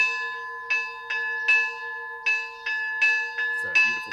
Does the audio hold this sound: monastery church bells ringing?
yes